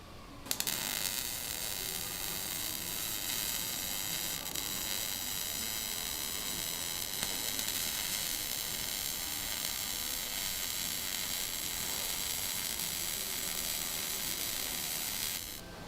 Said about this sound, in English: Hinge brackets are MIG welded to the tubes at the front of the bonnet